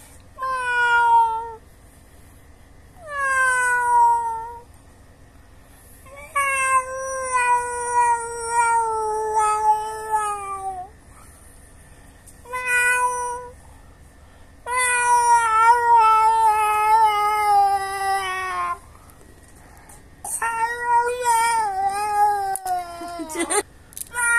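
A cat yowls loudly and repeatedly, about eight long, wavering distressed meows separated by short silences, close to the listener.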